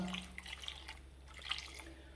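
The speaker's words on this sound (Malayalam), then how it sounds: "ഇതിനൊരു മഗ് വെള്ളമാണ് ഞാൻ ഒഴിച്ചു കൊടുത്തത്" A mug of water is poured into a pot of drumstick and ground coconut curry, making a faint, soft splash and trickle with a few small drips over a quiet kitchen background.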